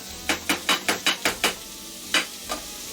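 Meat browning in a pan, with a run of sharp, evenly spaced scraping strokes of a utensil over a soft sizzle, close and fairly loud, then two more strokes after a pause.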